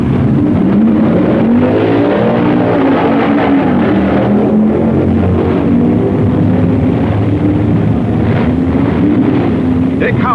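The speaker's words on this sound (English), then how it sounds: "Koppel beats Bill Flynn in a tight race." Loud, continuous engine roar from 1965 drag racing cars running down the strip, with the revving pitch rising and falling as they pass under a steady wind-like rush and faint talk.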